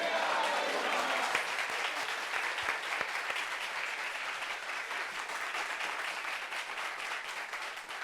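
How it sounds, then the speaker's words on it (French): Sustained applause from a crowd, a dense continuous patter of clapping that fades slightly over several seconds. "Applaudissements pour cette tenue-là"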